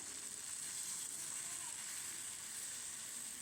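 Fava beans fry in oil with garlic in a pan, giving a steady, even sizzle that hisses continuously from start to finish with no voices over it.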